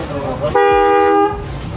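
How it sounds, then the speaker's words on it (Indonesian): A single Denso waterproof car horn on a 2019 Honda HR-V honks loudly for under a second, a bright steady toot that cuts off abruptly. "Yang kedelapan dapatnya klakson Denso waterproof."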